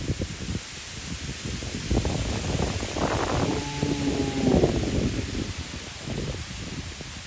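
Steady outdoor wind gusting and rustling through leaves with a broad hiss and low rumble, continuous for several seconds at a monastery food-offering gathering, with a faint tonal whine briefly rising in the middle.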